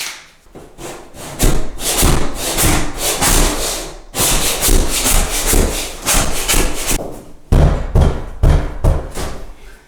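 A plastic razor blade scrapes leftover sticker residue off a fiberglass tub surround with close, uneven rasping strokes and occasional knocks, loud and continuous apart from a brief pause.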